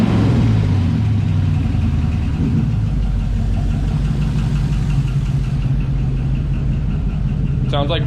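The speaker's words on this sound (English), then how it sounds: "Sounds like we got a dead lifter" An LS V8 swapped into a 1988 Firebird idles loud and close on its first start, with a steady low rumble and a faint rhythmic tick from a dead lifter, a vacuum leak also present; a brief higher burst comes near the end.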